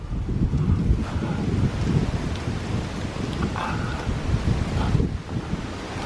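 Wind blowing outdoors with steady, blustery rumble and buffeting against the microphone, loud and continuous for several seconds, no voices.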